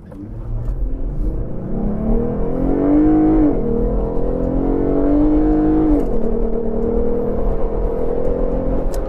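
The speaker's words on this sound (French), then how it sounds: "Bon, j'ai testé l'accélération avec le Gladiator Willys" A 2022 Jeep Gladiator Willys with its V6 Pentastar engine accelerates hard from the cabin, the engine note climbing steadily through two gear changes and carrying on as a loud, continuous drone.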